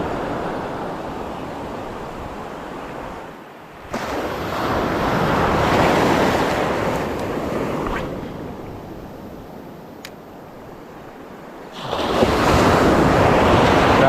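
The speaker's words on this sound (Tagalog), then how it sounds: "Grabe yung alon dito." Heavy ocean surf crashes in broad roaring washes, rising and falling over several seconds, with wind buffeting the microphone.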